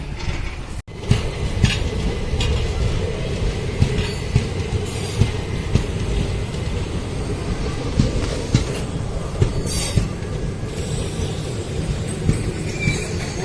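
A train on the Gandhigram to Dhola route rumbles along steadily with rhythmic clacking of wheels on the rails, loud and close, as if heard from inside a carriage.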